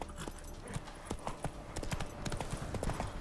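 Roach the horse gallops in the Witcher 3 video game, a steady rapid clip-clop of hooves close by, running continuously with a faint whinny hint beneath.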